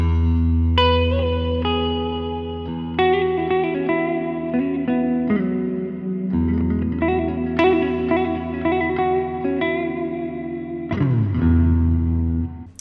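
A sustained electric guitar line with effects plays a major pentatonic improvisation over a droning low E, notes linked by hammer-ons and slides, loud and clear with a ringing, reverberant tone and no talking.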